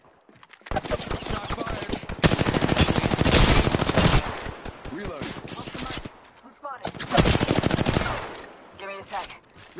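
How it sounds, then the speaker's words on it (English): Rapid automatic gunfire from a PS4 shooter game, dense bursts of machine-gun fire in two long loud stretches with brief pauses between, with scattered speech in the mix. "Shots fired, and they're hitting me."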